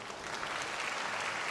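Arena crowd applauding at a Japanese T.League table tennis match between Okayama Rivets and Ryukyu Asteeda in a shopping mall venue, a continuous wash of clapping that sounds fairly distant and even.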